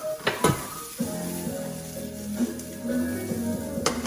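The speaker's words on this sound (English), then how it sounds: "as it's cooking, I like to toast up a little bit of black pepper in here" Black pepper toasting in a pan beside cooking salmon, a steady close sizzle with light clinks and scrapes of the pan at the start and end.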